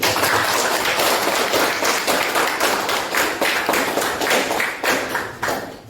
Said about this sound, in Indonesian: kasih tepuk tangan untuk Adi dulu